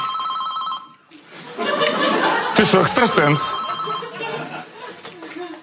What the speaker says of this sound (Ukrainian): Хтось дзвонить.